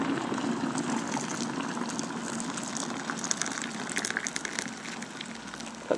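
Hot water pours steadily from a kettle into a cup for tea, a continuous gushing, filling splash held at an even level for several seconds with no talking over it.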